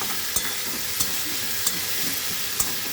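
Ginger-garlic paste sautéing in oil in a pan for a Bengali prawn, potato and pointed gourd curry, with a steady close sizzle and four sharp spoon scrapes against the pan spaced through it.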